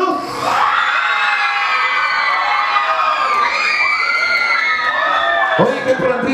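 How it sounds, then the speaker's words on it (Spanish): At a school event, a crowd of young people cheers, shouts and whoops for a couple, excited voices rising and falling loudly throughout with a fresh burst of shouting near the end. "¡Un aplauso para la pareja número 2!"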